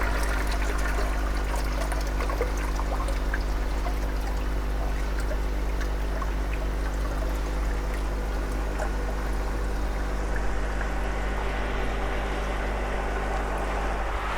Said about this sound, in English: That will just purge the bottom drain